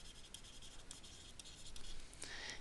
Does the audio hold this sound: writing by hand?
yes